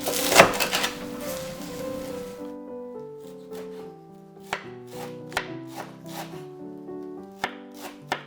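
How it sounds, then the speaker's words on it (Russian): A knife finely chops cilantro and dill on a wooden board, making a string of crisp, irregular taps over soft background music. "А кинзочку и укроп все нарезаю как можно мельче."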